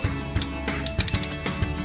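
A socket wrench ratchets in quick, uneven bursts of clicks while working the starter bolts on a Renault Clio 2, close up with no talk.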